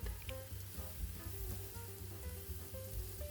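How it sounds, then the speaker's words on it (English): Chopped rosemary stirred into a sizzling pan of vegetables for flatbread, a steady close frying hiss with light scraping strokes and a low rhythmic hum beneath. "We'll add in our chopped rosemary, stir it up"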